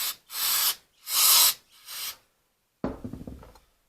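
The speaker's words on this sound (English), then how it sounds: "Also spray a little carb cleaner in it." Carb cleaner sprayed into the carburetor of a Yamaha TTR125 dirt bike in three close, sharp aerosol bursts, each about half a second long, followed by a softer rattling clatter.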